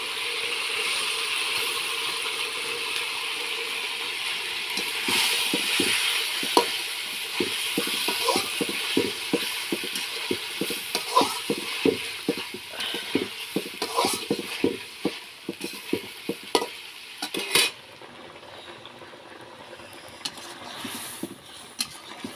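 Prawns frying in a cooked-down spice paste, stirred with quick repeated scraping strokes over a steady sizzle, close and busy for most of the stretch before the stirring stops and the sizzle fades, no talking.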